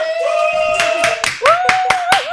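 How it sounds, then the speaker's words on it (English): A live audience claps during a talk event, with a loose run of sharp, near hand claps and cheering voices over them. "Let's do the applause one more time."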